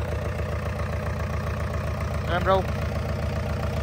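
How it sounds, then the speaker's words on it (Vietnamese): A Yanmar 4JH3 high-speed marine diesel engine, rated 45 horsepower and water-cooled, idles with a steady low throbbing rumble close by, while a person briefly speaks over it. "Máy nổ rất chuẩn ha, giải nhiệt cả nước luôn, ra ngoài luôn."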